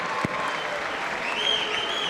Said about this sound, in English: a round of applause for the Warriors